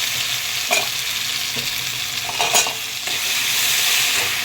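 Black cumin seeds, cumin-chilli paste, salt and turmeric sizzle steadily in hot oil, with a few sharp scraping stirs breaking through the continuous close crackle.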